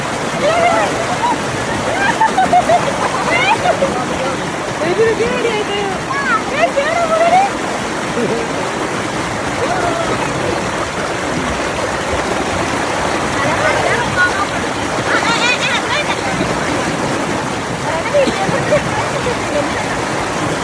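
Fast-flowing stream water at a waterfall rushes in a dense, continuous roar, loud and close throughout, with splashing bursts and occasional voices faintly under the flow.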